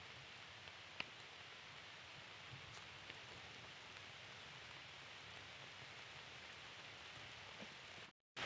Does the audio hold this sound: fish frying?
no